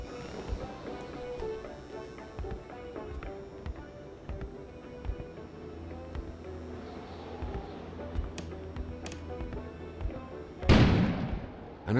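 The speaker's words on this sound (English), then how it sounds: "An explosion suddenly occurred outside." In the video game Kona, a sudden loud outdoor explosion bursts out near the end. Before it comes a quiet stretch of low game ambience with scattered small knocks and taps.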